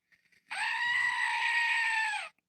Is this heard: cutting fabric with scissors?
no